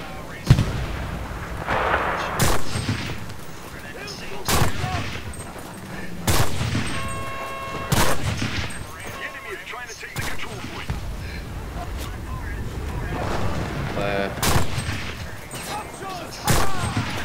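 Loud gunfire rings out in Enlisted, a WWII shooter, with a sniper firing on enemies riding a Kubelwagen. Heavy booming shots land every couple of seconds amid battle noise and crackling echoes.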